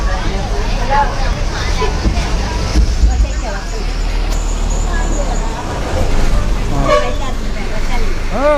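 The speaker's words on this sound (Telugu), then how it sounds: "తెనాలి తిప్పలకట్ట బస్సు బస్ స్టాండ్లో బయలుదేరిందిగా" A Tippalakatta bus pulls out of the busy Tenali bus stand amid engine rumble, traffic noise and scattered horn toots, with crowd chatter and nearby voices throughout.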